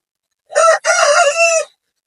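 A rooster crows loudly and close on a poultry farm, one clear two-part cock-a-doodle-doo standing out against silence.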